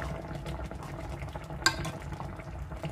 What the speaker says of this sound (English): Even though it's bubbling, the stove's off.